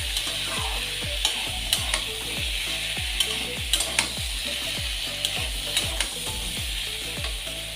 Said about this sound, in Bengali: ঝিঙেগুলো দিয়ে ভালো করে কষে নেব